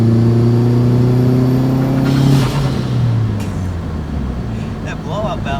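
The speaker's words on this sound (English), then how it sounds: "I love hearing that blow-off valve." A Nissan 240SX engine revs steadily then drops off, followed by the short hiss of its blow-off valve, heard from inside the car with a voice talking over it.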